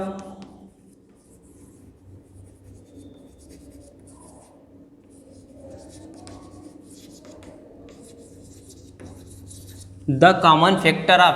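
Soft scratching of handwriting during a class 4 maths lesson on HCF and LCM, faint and continuous under a low background hum, before louder activity bursts in near the end.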